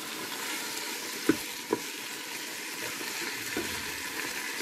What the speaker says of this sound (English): I am going to throw in my onion now. Just give that a stir around.